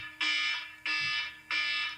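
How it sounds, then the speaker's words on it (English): An electronic alarm goes off with three loud, shrill, evenly spaced beeps, each about half a second long, close and piercing. "It's the Wrap it up alarm."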